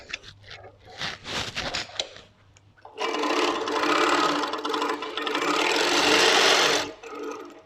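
A quilting sewing machine stitches in a fast, steady whirring run lasting several seconds and then stops. It is preceded by shorter bursts of clatter and handling noise, with everything close and fairly loud.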